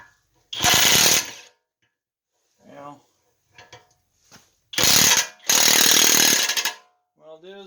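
Loud bursts of rapid metallic hammering from an air tool drive a ball joint into place on a 2005 Honda Accord, in three separate runs with pauses, and someone speaks briefly between them.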